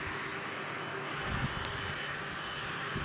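A jet aircraft taxiing toward a taxiway behind Pier A at Brussels Airport, heard from an outdoor balcony: a steady, broad engine roar with a faint whine, continuous and fairly distant, with no talk.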